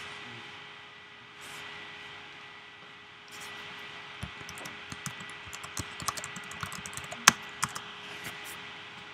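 Someone types on a computer keyboard in a lecture room, scattered quiet clicks that gather into a quicker, sharper run of keystrokes partway through, heard against a steady background hum.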